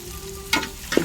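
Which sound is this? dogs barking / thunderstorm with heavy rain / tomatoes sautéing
tomatoes sautéing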